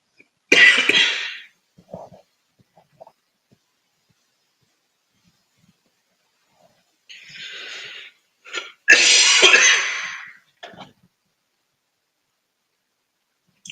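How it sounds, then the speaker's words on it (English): Two bouts of coughing, harsh and close, separated by a long quiet stretch with faint breaths in between. "Just have a bit of cough."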